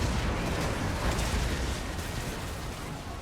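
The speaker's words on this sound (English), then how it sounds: "we are being supported by my cannon still back there who's shooting at these Demigryph Knights" Cannon fire in Total War: Warhammer, part of a dense battle: a constant loud rumble of booms and blasts running through the whole stretch, without clearly separated shots.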